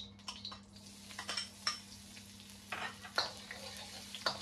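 Garlic sautéing in a little cooking oil for an Ilocano dinardaraan, a soft steady sizzle with intermittent stirring clinks and scrapes of a utensil against the pan, close and quiet.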